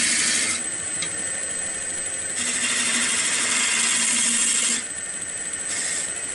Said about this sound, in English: Now, I'm just using the half-inch spindle gouge.